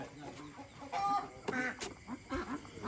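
Egg-laying ducks squawk and quack at a farm late at night as they are caught, with several loud bursts of calls and flapping commotion in close succession.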